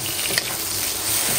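Food sizzles and fries in a pan in a rural kitchen, a steady close crackling hiss with a light stirring scrape, no voices.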